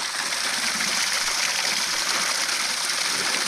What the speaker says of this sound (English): Now the waterfall flowing